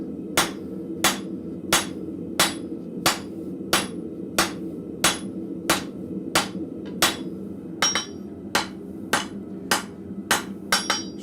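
A blacksmith hammers hot metal on an anvil, sharp ringing blows landing about once a second, close and loud, with the rhythm quickening into tighter pairs toward the end over a low background hum.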